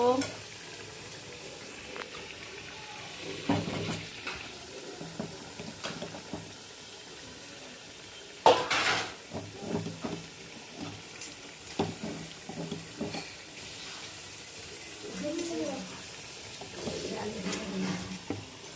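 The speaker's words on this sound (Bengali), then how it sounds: "এই যে ফ্রাইড রাইসের কড়াই বসিয়ে দিয়েছি, সাদা তেল দিচ্ছি, একটু ঘি দিব" White oil and a little ghee heating in a fried rice wok, soft sizzling with scattered clinks and stirring knocks, faint and intermittent, with occasional brief background sounds.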